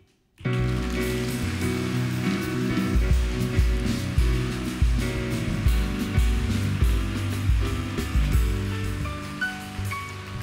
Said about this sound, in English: Jetzt bitte ich Sie um einen riesigen Applaus für eben diese Jury